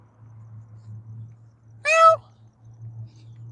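A little gray cat lets out one short, clear meow from a short distance, alone above a steady low engine-like hum, with another faint sound just starting at the very end.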